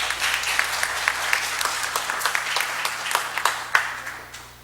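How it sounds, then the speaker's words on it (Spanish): Audience at an international arbitration congress applauding, steady clapping with distinct individual claps over a low hum, easing off toward the end. "Un aplauso por el doctor Avendaño, por favor."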